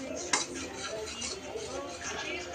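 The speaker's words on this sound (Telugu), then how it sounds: "తీగపాకం వచ్చిన తర్వాత అందులో కప్పు పల్లిపొడి వేసుకొని కలుపుకోవాలి" A utensil stirs ground peanut powder into thick sugar syrup in a metal pan, with a sharp clink at the start followed by soft repeated scraping and swishing.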